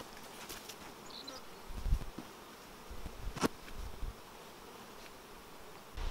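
Honey bees buzz steadily around an opened hive during work on mini mating nucleus colonies, a dense continuous hum close by, with a few faint knocks from handling and no talking.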